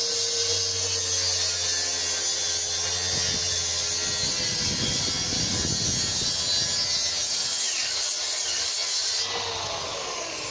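A power saw rips lengthwise down a wooden board for a bay window seat base, a steady loud whining buzz that holds throughout with no break, then shifts in tone near the end as the cut finishes.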